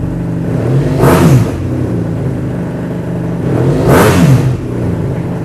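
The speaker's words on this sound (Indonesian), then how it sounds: "itu dia tadi teman-teman suara dari F800R BMW" Up close, a BMW F800R motorcycle engine idles with a steady throb and is revved twice, each rev a short rising roar before dropping back.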